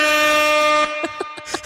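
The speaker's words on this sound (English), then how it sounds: "Where's the air horn?" A loud, sustained air horn blast from a sound effect rings out, then breaks into several short staccato toots near the end.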